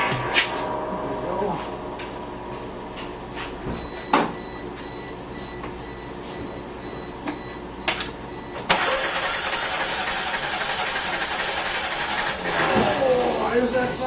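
A 1997 Geo Metro engine with no compression cranks over in fast, uneven bursts, then a loud steady mechanical whir takes over and continues to the end.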